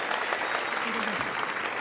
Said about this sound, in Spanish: ustedes que merecen un aplauso porque atendieron el llamado.